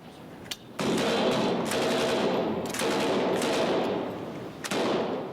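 Rapid gunfire in a British wartime TV comedy scene, loud bursts of rattling shots repeating in several volleys, close and dominant with no clear talk over them.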